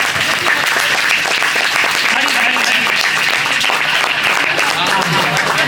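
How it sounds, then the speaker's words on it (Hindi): Audience at an Independence Day community committee gathering applauding a memento presentation, with sustained dense clapping from a large crowd and voices mixed in. "तालियों से इस्तकबाल करें भाई।"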